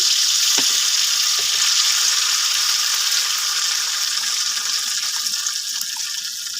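Salt is sprinkled into hot oil in a wok before small shrimp go in to fry, producing a continuous bright, hissing sizzle with faint crackles.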